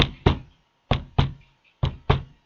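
A hand raps on a door in three paired knocks, a sharp double-beat pattern repeated with short pauses between pairs, close and fairly loud, imitating the pulse of a pulsar.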